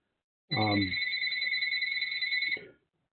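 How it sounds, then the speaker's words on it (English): A landline telephone rings with a steady two-tone electronic trill for about two seconds, loud and close, with a brief burst of low thumping at the start. "we should now get a phone call on our landline"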